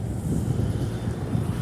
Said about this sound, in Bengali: বাতাস চমৎকার